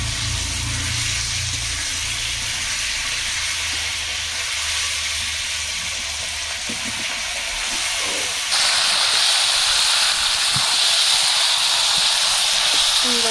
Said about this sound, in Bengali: পেঁয়াজ ভাজা হয়ে গেছে, তখন মাংসটা ছাইড়ে দিলাম।